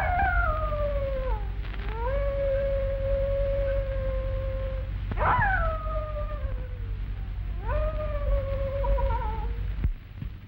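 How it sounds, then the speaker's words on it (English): A drawn-out canine howl rises and falls in three long wavering calls over a low steady rumble, fairly close and loud with no talking. "I wish you'd stop that awful howling."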